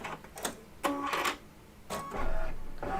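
Embroidery machine stitching an in-the-hoop cell phone zipper bag in metallic thread, giving short bursts of rapid mechanical chattering separated by brief pauses, close and moderately loud.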